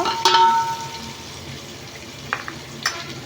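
Flattened rice (poha) frying in oil in a pan gives a soft, steady sizzle, with a few light scraping and stirring clicks near the start and end.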